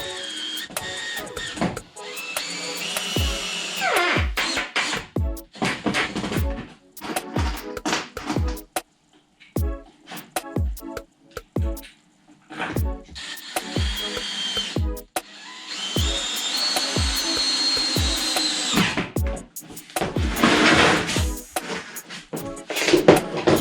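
A power drill drives screws through PVC pipes into a wooden beam for a DIY skateboard grind rail, with repeated bursts of close motor whirring broken by short pauses and clicks.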